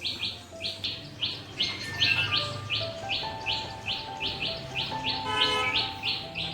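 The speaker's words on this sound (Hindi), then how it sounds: "फ्रेंड्स, क्या आप चिड़ियों की आवाज़ सुन रहे हैं?" Small birds chirp in a quick, steady series of bright tweets, with other calls and whistles mixed in behind. The sound is lively, fairly close and continuous, and no one speaks.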